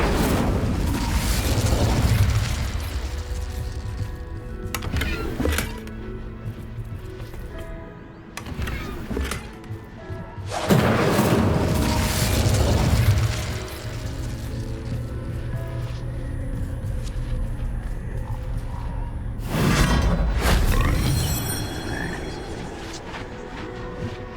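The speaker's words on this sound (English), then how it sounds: "Confringo. Incendio." Spell explosions going off in Hogwarts Legacy, several loud booming bursts at intervals with crackling tails, layered over steady game ambience and music.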